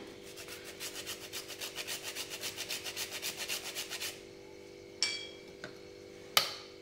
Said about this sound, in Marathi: आता याच्यात आपण थोडंसं जायफळ खिसून घेऊया.